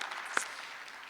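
Audience at a live event clapping in a room, a fairly faint, continuous patter of applause with one sharper clap standing out early on.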